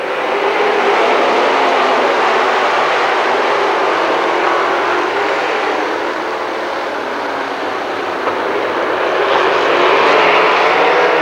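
Late model race cars roaring around a dirt oval at Lernerville Speedway in 1994, a loud continuous engine drone from the pack that swells and fades slightly as the cars pass, with no talk over it.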